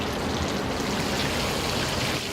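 Water simmering steadily in a restaurant kitchen pot while a poached egg is reheated, a continuous close bubbling hiss with no voices.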